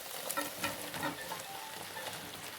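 Ginger garlic paste and fried soybeans sautéing in a pan for soybean chilli, a close, steady sizzle with repeated scraping stirs of a spatula against the pan.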